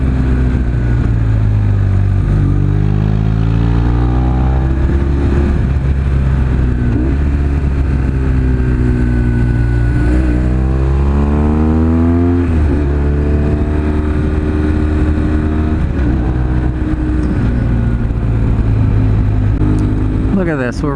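A BMW R1150 motorcycle rides a backcountry road. The engine hum rises and falls through gear changes, with strong wind rush, and a rider talks over it now and then.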